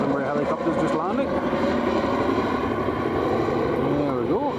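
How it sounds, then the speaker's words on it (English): A Northumbria police helicopter's steady whirring engine and rotor drone fills the scene as it lands at Newcastle International Airport, loud and close, with faint voices underneath. "Northumbria helicopter's just landing."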